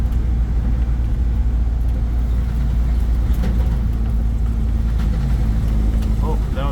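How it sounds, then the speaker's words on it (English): Steady whirring drone of the blower motor inside a 1985 Jeep CJ7 while driving, constant and fairly loud with road and engine rumble underneath and a voice talking over it. "That would be the blower motor, not the wipers"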